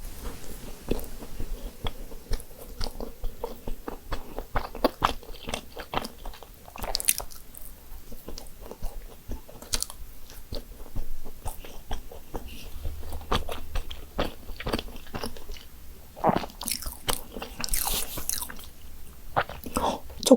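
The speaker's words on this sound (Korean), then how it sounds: "큰 마들렌 먼저 먹어볼게요" Close, quiet bites and soft moist chewing of a large lemon-scented madeleine, with occasional small crunches in a steady eating rhythm.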